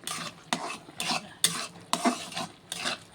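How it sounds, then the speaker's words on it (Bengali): Egg halwa being stirred in a pan with a utensil, six or so scraping, gently sizzling strokes in a steady rhythm, close and moderately loud with no talking. "এরকমভাবে আরও নাড়বো"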